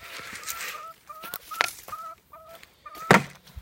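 Chickens cluck in a series of short, sharp calls with brief gaps between them, close by and fairly loud, with a sharper squawk near the end and no people talking.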